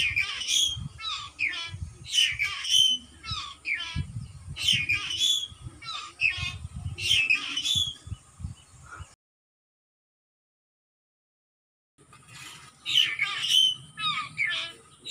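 A bird on a rural Chinese farm squawks in repeated harsh bursts up close. The calls break off into silence and then return briefly, with low background sounds under them.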